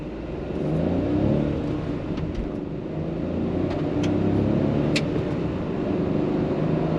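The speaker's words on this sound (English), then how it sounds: "We will drive pedal to the metal. So check this out, listen to the engine." A 2022 Hyundai Venue turbo petrol engine revs and pulls hard accelerating from standstill, a steady droning whine with road and wind noise, heard from inside the vehicle.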